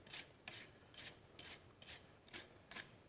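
Rhythmic scrubbing or wire-brushing strokes clean old grit and brake dust off a car part, about seven evenly spaced rasping passes, close and fairly quiet with no talk.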